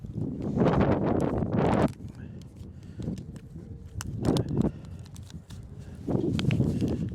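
Wind gusts buffet a microphone at a cold marina by the water, loud low rumbling bursts rising and falling over about seven seconds with quieter stretches between.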